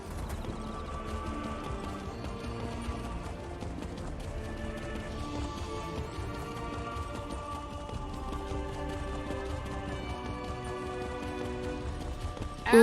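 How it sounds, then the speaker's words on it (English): Galloping horse hooves in The Elder Scrolls Online, a steady clip-clop rhythm running throughout under a constant layer of game music and ambience. "Hopefully my horse will be faster by then."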